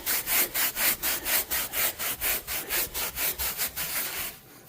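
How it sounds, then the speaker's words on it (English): A brush scrubs household cleaner into carpet in quick, even back-and-forth strokes, about four per second, loud and close with no talking, stopping just before the end. "I'm going to scrub that in there."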